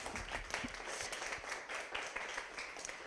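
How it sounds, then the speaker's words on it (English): Faint, steady clapping comes from a workshop audience thanking a panel of students who shared experiences abroad. It stays low and fairly distant for about three seconds, with no talk over it. "One big round of applause"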